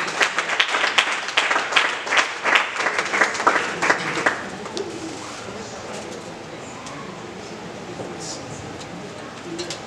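A church congregation applauds in encouragement, rhythmic group clapping for about four seconds that fades into a murmur of room noise, with a voice and faint cooing-like tones behind it.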